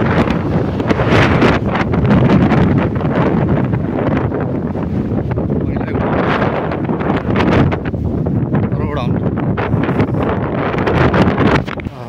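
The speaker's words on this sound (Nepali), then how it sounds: "पानी परेछ हावा चलेको" Wind gusts in a light drizzle, buffeting the microphone with loud, rough rumbling and rustling that rises and falls in uneven surges throughout.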